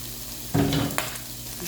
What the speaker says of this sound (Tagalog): Gigisa na natin ng bawang, sibuyas, kamatis.